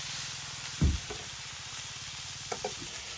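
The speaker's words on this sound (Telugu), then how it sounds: "కాలీఫ్లవర్, క్యారెట్ ని ఒక స్పూన్ ఆయిల్ వేసి వేయించుతున్నాను" Cauliflower and carrot frying in a spoonful of oil in a pan give a steady soft sizzle, broken by one brief knock and a couple of light stirring scrapes.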